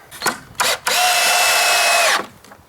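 Two short drill bursts, then a sustained whine of a power drill driving a screw into pallet wood, ending abruptly.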